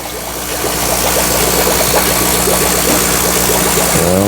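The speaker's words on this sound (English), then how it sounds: "It's really loud in here, so I don't even know if you can hear me through this, because all this air pump and stuff." Air pumps in a crowded home fish room of guppy, shrimp and Cory catfish tanks drone with a loud, steady motor hum and buzz that stays constant and close throughout.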